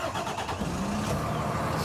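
A 2023 Freightliner M2 106 truck engine cranks and catches, its rough mechanical churn settling into a steady low running rumble, close and moderately loud throughout the short stretch.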